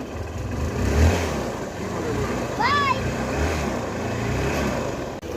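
A motorbike engine revs up and pulls away, a steady mid-range drone under nearby talk, with a brief whistling chirp partway through.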